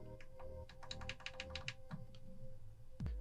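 A run of quick, crisp key clicks on a MacBook Pro 13-inch A1989 keyboard after a top case swap, with a faint tap at the end, heard close and quiet with no talking.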